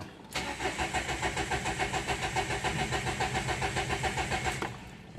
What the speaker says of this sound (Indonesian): di starter awal atau pertama kali kita starter itu susah hidupnya, susah